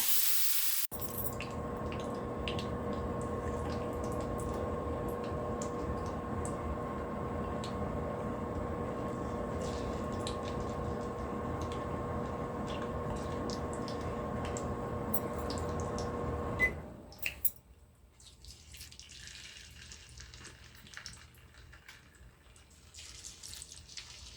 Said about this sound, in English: I drain the water and I also use paper towel and patted it dry.